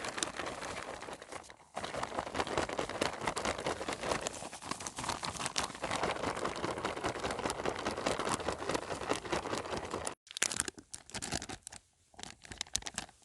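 A sealed clear plastic zip bag of Canadian military ration drink mix is shaken hard and steadily, giving close, continuous crinkly rustling and scratching, with short breaks near the start and toward the end.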